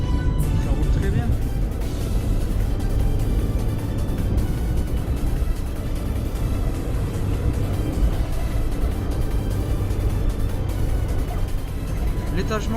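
A Peugeot 205 driving over rough, broken-up roads, with a steady low engine drone and road rumble filling the cabin under continuous conversation.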